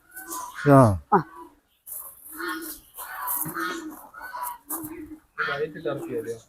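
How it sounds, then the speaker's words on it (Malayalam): White and black turkeys on a farm call out in a couple of loud, honking gobble-like bursts near the start, followed by quieter chatter of voices and other fowl sounds. "ആ ഇത് ടർക്കി കോഴികളാണ് വൈറ്റും ഉണ്ട് ബ്ലാക്കും ഉണ്ട്"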